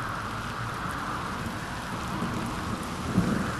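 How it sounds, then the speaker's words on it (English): Steady heavy rain pours down in a thunderstorm, a dense hiss close by with a low rumble underneath and a brief louder thump near the end, no voices. "Oh my God, acid rain is real."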